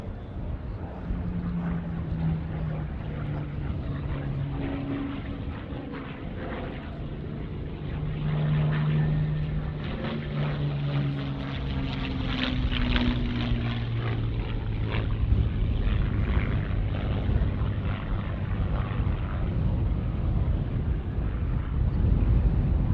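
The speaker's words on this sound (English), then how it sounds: "The P-40X comes into land." A Curtiss P-40 propeller fighter drones steadily as it comes in to land at an airshow, its loud engine roar rising and swelling slightly over the whole span with no talk.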